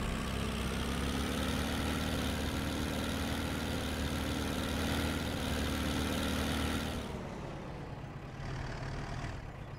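A tractor fitted with front loader and weights in Farming Simulator 17, a steady close engine drone that idles evenly and then drops slightly in level near the end.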